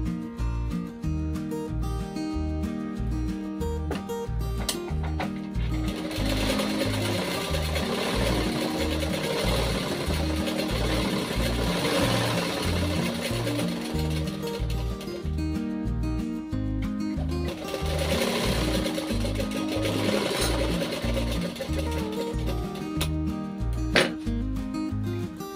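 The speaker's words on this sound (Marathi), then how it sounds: "ह्याच्यावरती दाब शिलाई देऊया।" Sewing machine stitching a blouse yoke strip, a steady rhythmic mechanical chatter that runs continuously and loud throughout, with no talking.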